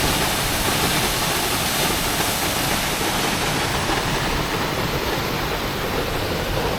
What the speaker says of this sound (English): It's quite impressive, even just for a small waterfall.